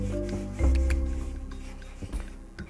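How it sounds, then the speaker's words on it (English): Homemade beeswax wood polish being rubbed by hand into a wooden surface in a kitchen, producing close, soft scraping strokes with a louder scuff partway through that gradually fades. "We are going to rub that into here."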